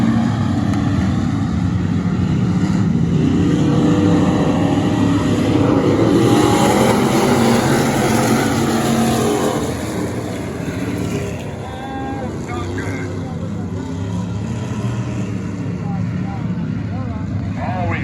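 Sprint cars race around the Lincoln Park Speedway in a B-Main event, making a loud, continuous engine roar that eases slightly partway through, with voices over the noise.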